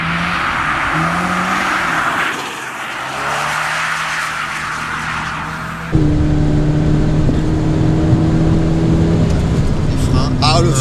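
Toyota GT86 driven hard and drifting, with loud engine revving and long tire squeals that shift pitch as it slides, heard from inside the car with occasional voices.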